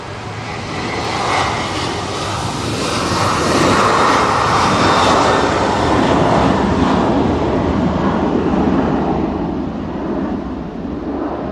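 A Jet2 airliner taking off from Manchester Airport on a windy day roars loud and broad, its engine noise swelling to a sustained peak and then slowly easing away.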